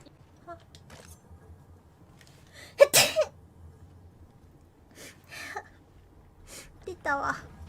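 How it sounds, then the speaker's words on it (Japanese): A single sharp sneeze from a VTuber on a live gaming stream, close and fairly loud, followed by quieter scattered speech and small vocal sounds. "くしゃみ出ました。"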